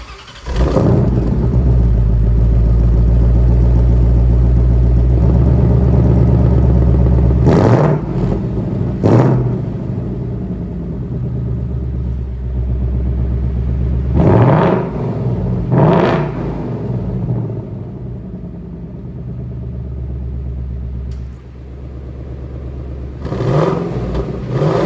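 A 2023 Ford Mustang GT Premium V8 with active valve exhaust revs repeatedly, a loud deep rumble rising in several sharp throttle blips between steadier idling stretches.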